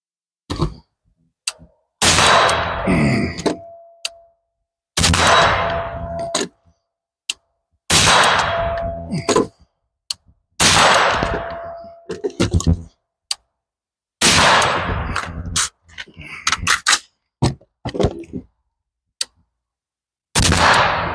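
Gunshots ring out one at a time from barricade firing positions at an outdoor range, each sharp crack followed by a short ringing tail, spaced a few seconds apart across about eight shots, with bursts of movement and clatter between them.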